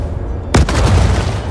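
Gunfire in a video game starts with a sharp, close blast and then continues as dense, rumbling, sustained shooting.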